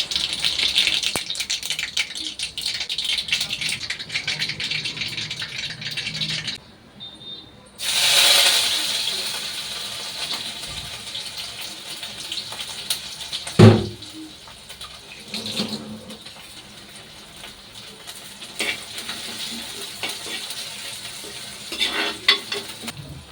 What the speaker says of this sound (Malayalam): ചട്ടിയിലോട്ട് ഞാൻ ഉലുവയും കടുവൊക്കെ ഇട്ട് പൊട്ടിച്ചു കേട്ടോ